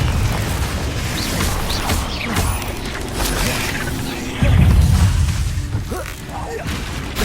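A Confringo blasting spell in Hogwarts Legacy goes off in a deep, booming explosion amid a dense rumble of combat noise, with heavy low thuds repeating and one especially strong blast partway through.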